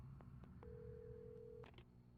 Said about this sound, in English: Oh, there's the phone.